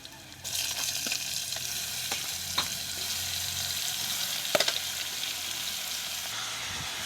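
Ginger and jackfruit sauté in a pan for ginataang langka, a soft steady sizzle with a few sharp clicks of a utensil against the pan, fairly quiet and close.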